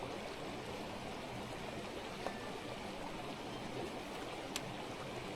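Running water in a stream rushes in a faint, steady wash, with a couple of small splashes and no voices.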